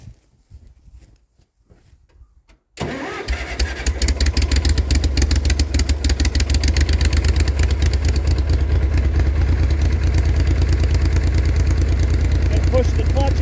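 A riding mower engine with a wobbling blade cranks and fires up after some quieter handling noises, then runs at a loud steady clattering idle with a rapid pulsing beat, close by.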